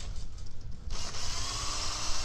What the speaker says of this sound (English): Yeah, so I'm always using a hand drill.